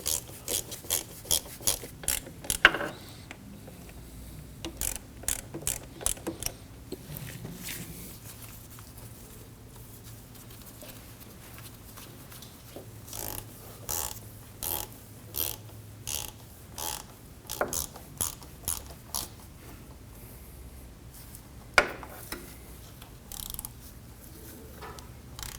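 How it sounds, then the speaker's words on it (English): Valve cover bolts being tightened on a 2003-2006 Subaru Baja 2.5L H4 engine, with repeated ratchet clicks in short bursts separated by pauses, fairly quiet and close. "Keep going around and bringing each bolt down slowly."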